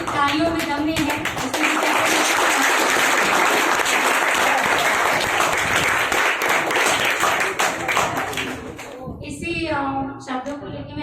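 Loud, sustained applause from an audience at a Gandhi Jayanti celebration, thick continuous clapping that swells and holds, then fades as a voice speaks over the tail and briefly before it.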